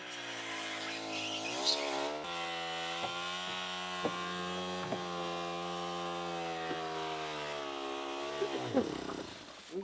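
Steady motor drone of a maple sap pump running during a pump out, a continuous harmonic hum with a few faint clicks, ending with a brief clatter.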